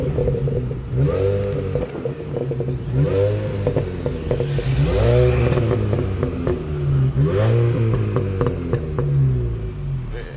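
A Mini car engine revs repeatedly in several rising and falling bursts, loud and close, with no talking.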